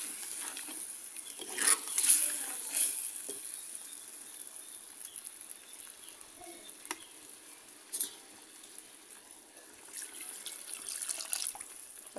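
Water is added to a simmering tuna curry soured with kudampuli. A faint, soft sizzle and wet sloshing continue throughout, with a few louder splashes and stirring bursts.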